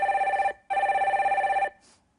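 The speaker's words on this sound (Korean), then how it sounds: "전화" Two bursts of an electronic telephone ring, a bright trilling tone pulsing rapidly, the first short and the second longer, close and loud with nothing else around it.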